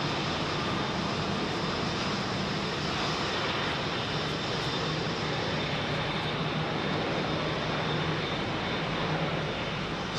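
A jet airliner departs close by from London Heathrow runway 27R, a loud, continuous, broadband engine roar at an even level from start to finish, with no talking.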